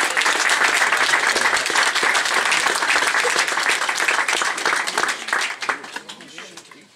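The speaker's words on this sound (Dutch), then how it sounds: "En een meer dan welgemeend applaus is op zijn plaats." Dense audience applause at the opening ceremony of a Dutch marksmen's guild in Geleen, loud and continuous, then thinning toward the end with a few scattered claps and voices.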